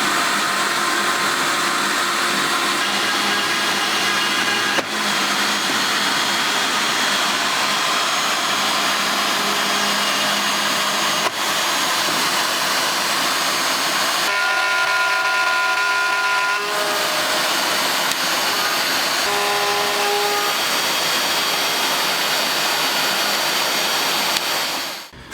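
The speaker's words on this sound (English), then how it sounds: "use it like a normal router and just slide it back and forth until I reach" A plunge router with an attached dust hose whines loudly and steadily while cutting mortises in wood, a continuous high-pitched roar with brief shifts in tone and a short pause near the middle, cutting off at the end.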